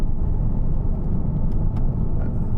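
Inside a 2012 Porsche Cayman 2.9 987 with PDK gearbox on the road, a low, steady engine rumble and road noise fill the cabin as it changes down a gear, with no one speaking.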